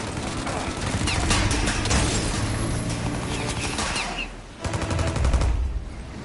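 A shootout in the Mafia video game: dense, overlapping bursts of rapid gunfire, loud and close, with a brief lull before another volley erupts.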